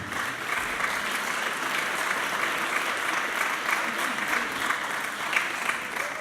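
Continuous applause from a conference audience, steady and moderately distant, with dense overlapping claps and no pauses.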